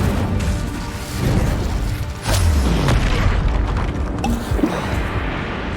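A fire spell cast with a boom in Hogwarts Legacy on PS5, a sudden loud burst over continuous game ambience and music, with smaller impacts following.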